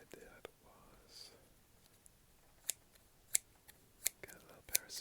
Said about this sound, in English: get a little pair of scissors.